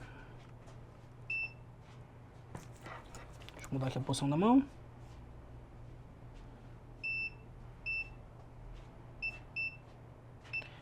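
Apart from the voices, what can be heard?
multimeter continuity beep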